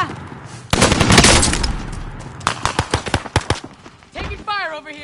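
Video-game gunfire: a dense automatic burst followed by a string of sharp, loud individual shots, with a voice briefly heard at the end.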